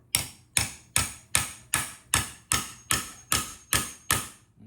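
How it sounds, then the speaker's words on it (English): Ten evenly spaced, sharp hammer taps on metal as a part is driven down into place, steady rhythm about two per second, close and clear with no talking. "you wanna tap that on down in there. So I just take a hammer."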